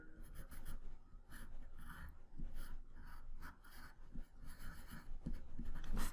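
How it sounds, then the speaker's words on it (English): A pencil sketches a cartoon character on paper in quick, rhythmic strokes, scratchy and close-up, with short bursts of rubbing lines and brief pauses, no voices. "So I'm going to quickly draw my character right here."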